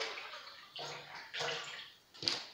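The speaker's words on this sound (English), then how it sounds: "Add some water." Water poured into bhajia batter of garlic, salt and vinegar, arriving in three or four short, close splashing pours with brief pauses between them.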